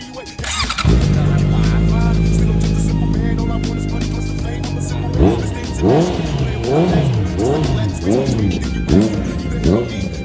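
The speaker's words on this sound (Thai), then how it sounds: "ให้น้องสตาร์ทให้ฟังนะครับ" A 2017 Honda CB650F motorcycle engine cranks and catches, idles with a steady loud drone, then revs repeatedly in rising and falling bursts, close to the microphone.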